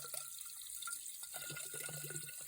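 Cold spring water pouring from a pipe near Death Valley, a steady faint trickling splash with small drips, alone and continuous.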